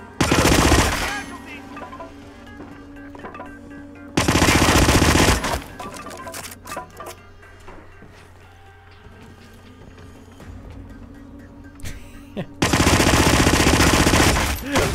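Bursts of loud automatic gunfire in the Hitman video game crack in three separate volleys, near and dense, with quieter movement and ambient game sounds between them.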